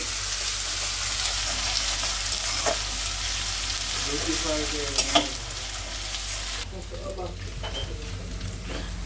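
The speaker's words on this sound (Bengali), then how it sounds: "এবার আলু দিয়ে দেওয়া হচ্ছে, আজকে স্পেশাল করে রান্না করছে মা।" Potatoes tipped into a hot frying pan for a home-cooked meal give a loud, steady sizzle with scraping stirs, and the hiss drops and thins partway through.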